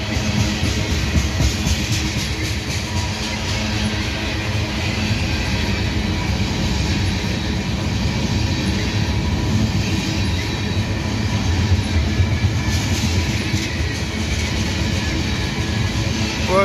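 A Kansas City Southern unit tank train rolls past on the rails, a loud continuous rumble of wheels and cars with faint clicking and squeal, close and sustained throughout.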